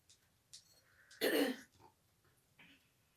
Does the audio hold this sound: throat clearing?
yes